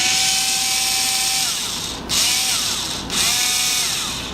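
A power screwdriver drives a screw into a porcelain electrical fixture, a steady whirring motor run that dips and restarts twice in quick bursts, loud and close.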